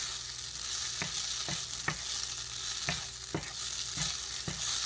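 Vegan sausage and onions fry in a pan for a breakfast burrito, a loud, even sizzle close by punctuated by regular spatula taps and scrapes about every half second, with no voices.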